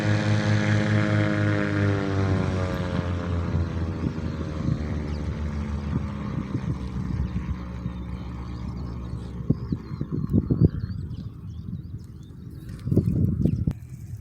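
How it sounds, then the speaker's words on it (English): An airplane comes in to land at an airport, its engine drone loud and sliding downward in pitch as it passes nearby, then fading into rustling, wind buffeting and handling noise. "Guys, there's an airplane landing."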